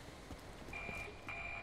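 A vehicle in the Borderlands video game sounds its reversing alarm: a thin, steady high beep that starts partway through, breaks briefly and resumes over a busy game soundscape.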